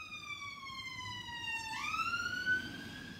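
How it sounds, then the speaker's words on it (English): An ambulance siren wails close by as the vehicle passes, its rising and falling tone dropping sharply in pitch as it goes by, over steady street rumble with no talk. "there's going to be a ambulance or something about to go past"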